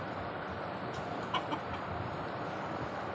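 Household chickens cluck a few times, faint and brief, against a steady hiss of outdoor background noise.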